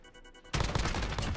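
Dense burst of rapid gunfire from a first-person shooter game erupts after a quiet half-second and continues as a loud, continuous volley to the end.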